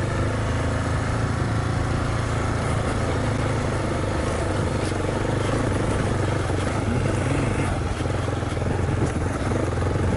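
A Kawasaki KLR dual-sport motorcycle engine works hard climbing a sandy hill, a continuous loud, rough drone with wind buffeting throughout and no clear talk.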